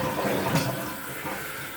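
Water rushes steadily as a toilet tank refills after a flush through a Fluidmaster 400 fill valve, a close, constant hiss and gush with no talking.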